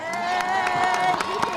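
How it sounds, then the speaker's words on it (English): At a school ceremony, parents and students give teachers and staff a round of applause: a dense, close crowd of clapping with scattered cheers and whoops throughout. "could all the parents and students give the teachers, our staff, a round of applause"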